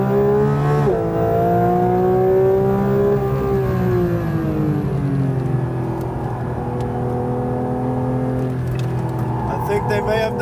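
A Porsche 992 GT3 accelerates hard on a racetrack, its engine note climbing loud and steady through the gears with a brief drop between shifts, while a person talks over it.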